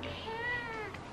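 A kitten meows in one drawn-out, wavering cry that slides up and then falls away, close and clear against a quiet indoor background.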